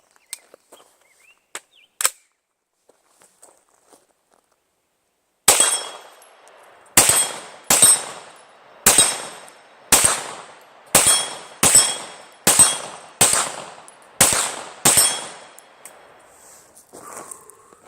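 An Extar AR-style pistol fires at the range: after a few faint clicks and handling noises, about a dozen loud, sharp shots ring out at a steady, deliberate pace, each one followed by a short ringing decay.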